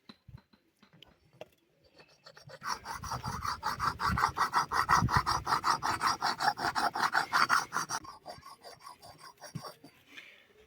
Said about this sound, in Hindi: तो लिया है मैं पत्थर जिस पे कि हम दराती और कुल्हाड़ी वगैरह पे धार लगाते हैं।